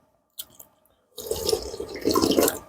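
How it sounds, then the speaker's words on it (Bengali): Water from soaked panta bhat rice being poured, a brief drip first, then a steady splashing pour that runs for over a second, close and fairly soft. "পান্তা ভাতের জলটা একটু দিই।"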